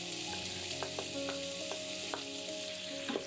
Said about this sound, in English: add olive oil or vegetable oil and slice sausages in the Instant Pot